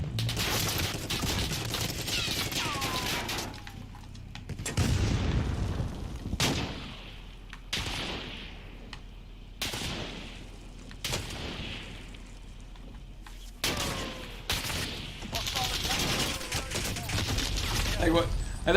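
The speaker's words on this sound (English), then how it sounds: "we're being sniped at from the roof right now" Gunfire in the video game Call of Duty comes in repeated sharp bursts and single cracks between pauses, fairly close, with rapid volleys and a person talking through the clip.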